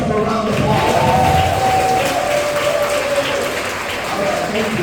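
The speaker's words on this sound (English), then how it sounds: "Now give yourself a round of applause." An audience of teachers applauds in a steady, close wash of clapping, with some thumps and a murmur of voices blended into the sound.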